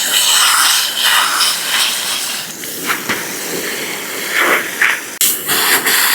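Water sprayed through the biomedia of a SICCE Whale 500 aquarium filter, a loud close hiss that gushes in bursts with short breaks and shifting intensity.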